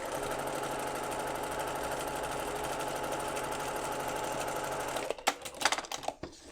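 A sewing machine stitching a quarter-inch seam on a Double Monkey Wrench quilt block, running in a steady, close, rapid whir before stopping into a few clicks and handling noises, with no talk.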